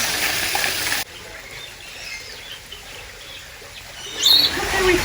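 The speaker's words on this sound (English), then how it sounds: "We can't forget about the ordinary old birds." Birds chirping in an Australian bird park in Cairns, faint scattered tweets over a soft outdoor wash, with a louder rush of sound near the start and end.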